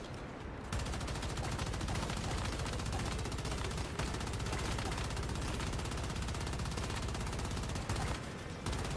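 LMG gunfire in the video game Once Human, a loud, continuous stream of rapid shots that runs almost without pause for several seconds.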